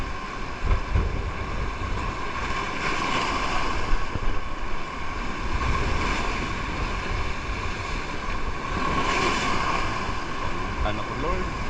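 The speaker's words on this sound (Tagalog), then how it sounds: "Alon ngayon." Ocean waves rumble and wash continuously around a boat at sea while fishing for trevally, with steady wind buffeting the microphone and voices talking over the churning water.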